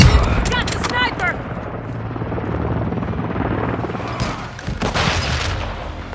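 Overwatch helicopter in Call of Duty Modern Warfare 2022 multiplayer, a steady rotor drone filling the scene with scattered gunfire, booms and short in-game voice callouts layered over it.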